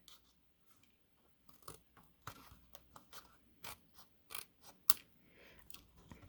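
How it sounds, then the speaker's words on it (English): Scissors trim a card layer for a handmade greeting card, giving a series of faint, crisp snipping clicks in an uneven rhythm, close and quiet. "it is a little bit too long, but I have good coverage, so I can just go ahead and trim"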